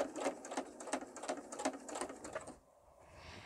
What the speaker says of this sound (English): So I'm going to just stitch along here.